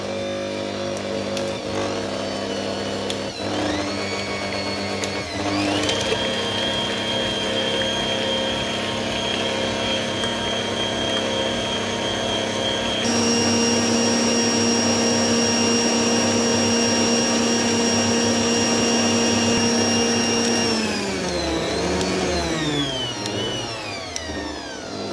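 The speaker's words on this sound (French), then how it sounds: "J'ai rajouté le beurre et je vais continuer de battre en mélange." Electric mixer beating butter into cookie batter, a steady loud whirring drone that holds for the whole stretch, with its pitch shifting up at one point and sliding down near the end.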